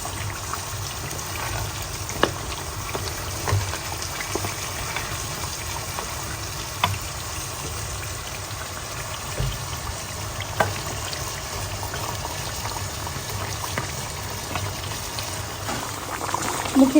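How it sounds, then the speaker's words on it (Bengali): Potatoes cook in a pan with chicken, giving a steady, close bubbling sizzle that carries on evenly throughout with no talking. "আলুকে ভালো করে কষাই নিই"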